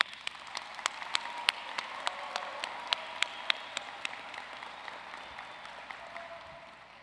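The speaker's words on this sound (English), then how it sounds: "Let's have a round of applause for our graduating class." A graduating class at a high school graduation ceremony draws applause that begins with distinct individual claps ringing out over a crowd, gradually thinning and fading toward the end.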